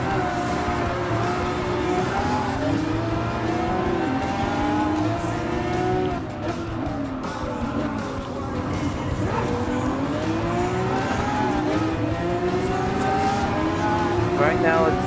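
Hypercars, including a LaFerrari, racing in Gran Turismo Sport, with engine notes that rise and fall steadily through corners and straights, loud and continuous throughout.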